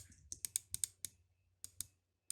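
A computer mouse clicks close up in a short, irregular series of sharp, quiet taps, about a dozen in all, against near silence.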